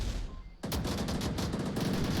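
Rapid automatic gunfire in the VR shooter Onward VR begins abruptly after a short quiet moment and continues as a dense, loud burst of shots to the end.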